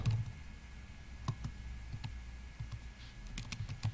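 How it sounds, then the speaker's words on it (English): Keys clatter in quick, uneven bursts on a computer keyboard during a text-based MUD roleplaying game session, close and moderately loud with short pauses between runs of typing and no talk. "let me start typing"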